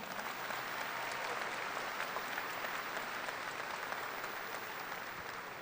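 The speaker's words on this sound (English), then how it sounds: "Can we give the leadership team members a round of applause?" Steady, dense applause from a high school graduation audience honoring the leadership team, a sustained wash of many hands clapping at even volume throughout.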